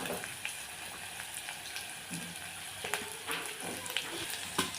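Potato, peas and carrot fry in oil along with mustard seeds, cumin, curry leaves, green chilli and onion, giving a soft continuous sizzle with light pops and stirring clicks up close.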